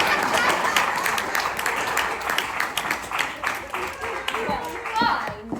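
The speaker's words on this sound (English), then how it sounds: "let's give a round of applause to this brave and forgiving soul" An audience in a small Wild West town performance space breaks into a round of applause, a dense patter of many hands running under a performer's voice and fading toward the end.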